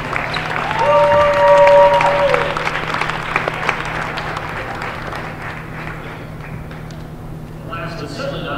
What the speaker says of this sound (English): Everyone's giving Hannah a round of applause.